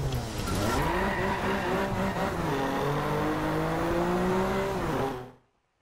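A BMW M4 drifts in DRIVECLUB, its engine holding a strained, steady rev under sustained tire squeal, loud and close throughout before cutting off abruptly at the end.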